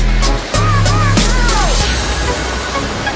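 River water rushes steadily near Nipli Falls, a constant broadband roar of flowing current with a person's voice speaking over it in the first half.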